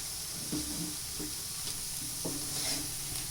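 A chena sweet mixture stirred in a kadai with the heat switched off, giving a few soft scraping and sticky stirring strokes over a faint steady sizzle, close up and quiet, with no talking.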